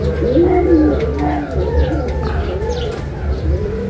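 Racing pigeons coo in soft, repeated rolling calls close by, with faint chirps and background voices mixed in at a loft during a race arrival.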